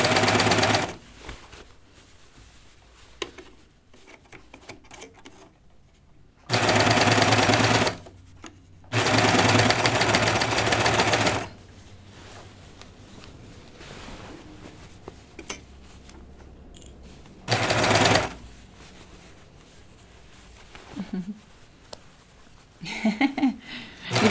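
Domestic sewing machine running jeans seams, several loud sustained bursts of rapid stitching separated by quieter stretches of handling and light clatter, close to the listener, with a voice talking briefly near the end.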